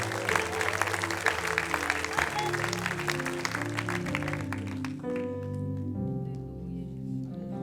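Applause from a church congregation rises over music for about five seconds, then fades as sustained organ or keyboard chords carry on alone.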